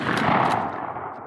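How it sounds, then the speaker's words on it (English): A single shotgun blast at outdoor clay target shooting, one loud close boom with a brief rolling decay outdoors. "Boom! Good shot."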